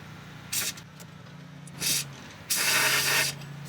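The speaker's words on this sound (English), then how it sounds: "I'm going to put some anti-rust spray on here." Anti-rust spray hisses onto the receiver hitch of a 2018 Subaru Crosstrek in three bursts, two short ones and then a longer blast, close up over a low idling hum.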